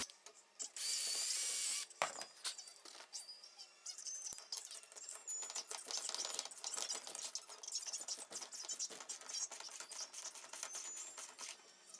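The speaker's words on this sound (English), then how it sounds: "put the screw in, and ratchet it down" Ratchet driving lag screws down into a wooden table: a quiet, close burst of hiss, then a run of rapid clicking and ratcheting with small scrapes, fairly faint, no talking.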